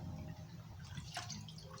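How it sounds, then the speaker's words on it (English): Raw cut-up chicken lowered back into a bowl of soaking water, giving soft close drips and a small splash, faint and alone. "And then I put it back in the water so it can be soaking some more."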